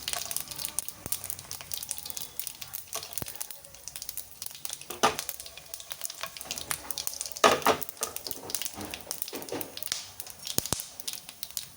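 Black pepper and dry red chillies fry in hot oil with a soft, steady sizzle and crackle, broken by scattered clinks and stirring scrapes of a utensil in the pan.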